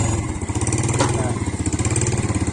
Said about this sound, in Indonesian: Suara knalpotnya itu loh, empuk suaranya ya.